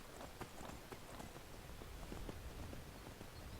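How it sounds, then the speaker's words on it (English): Horse hooves clip-clop at a steady run in the video game Skyrim, a faint, continuous patter of hoofbeats against soft ambient background noise. "let's get on the horse."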